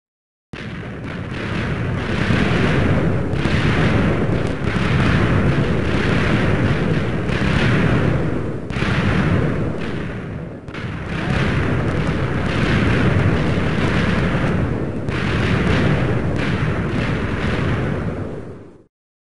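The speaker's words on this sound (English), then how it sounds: "Blew the blooming observation stand out." A dense, roaring rumble of continuous explosions in the Minecraft video game blows out an observation stand, loud and sustained with a short break midway, no talking.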